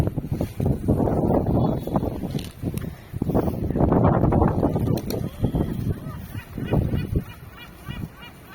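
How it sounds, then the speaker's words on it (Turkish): Strong wind buffets the microphone in heavy, continuous rumbling gusts, with geese honking faintly in the background. "Ama işte hava çok rüzgarlı."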